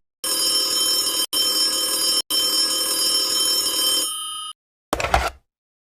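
A telephone bell rings in a radio drama: a loud, continuous metallic ring in three long bursts separated by brief breaks, then a short clatter as it stops.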